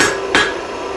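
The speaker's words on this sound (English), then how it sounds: "repeat on the third corner, which has already been slightly hammered by the rebound of the anvil from my previous strike" A hammer lands one loud, ringing metallic strike on a steel bar resting on an anvil while a taper is forged and its corners are flattened into octagon facets. The ring fades quickly into the close, quiet workshop air.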